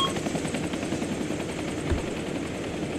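An enemy helicopter in the video game Arma 2 thuds steadily with rotor chop throughout, moderately loud and continuous, with a faint burst like distant gunfire near the end.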